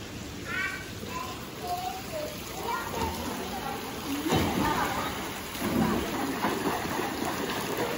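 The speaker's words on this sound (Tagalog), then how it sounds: "Medyo malakas po ang alon. Malalaki po ang alon." Large sea waves surge and crash in a continuous watery rush, with a couple of heavier breaks toward the middle and faint chirps early on.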